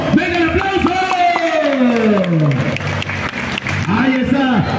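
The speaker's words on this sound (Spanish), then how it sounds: "¡No escucho el aplauso! ¡Venga el aplauso!" Crowd applause at a rural ranch-style boxing match in Santiago Zacatepec, Oaxaca, a broad wash of clapping running beneath a loud announcer's voice that stays on top throughout.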